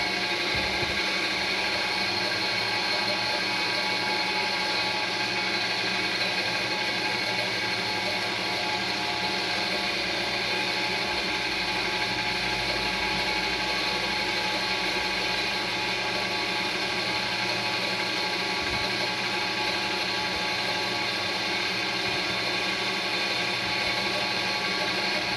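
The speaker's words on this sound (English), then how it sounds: "I'm going to go ahead and start just drilling here" An Iron Man DJ helmet is drilled through, the bit boring steadily with a grinding, ratcheting whir that holds at an even level for the whole stretch, with no talking.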